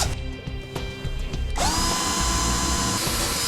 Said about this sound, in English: First, I'm going to use a small bit to make a pilot hole.